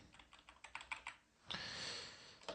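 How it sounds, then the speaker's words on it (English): Keys clatter on a computer keyboard while a PowerShell script is entered, a run of quick separate clicks followed by a longer burst and one final tap, close and fairly quiet. "So type in client dot send."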